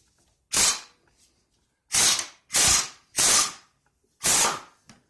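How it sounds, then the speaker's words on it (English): Five sharp bursts from an impact wrench with a 5/8 socket loosening the blade bolts on a Troy-Bilt TB 210 mower, loud and close, each burst under a second with quiet gaps between. "This is a 5/8 socket on this impact wrench."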